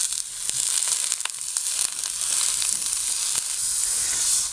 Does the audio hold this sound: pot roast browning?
yes